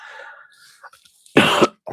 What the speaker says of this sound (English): now that I have sound, I might assault your ears with my coughing